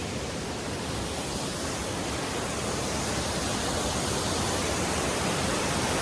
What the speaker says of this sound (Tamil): அப்படியே மேலேருந்து ஒரு ஃபால்ஸ் வருது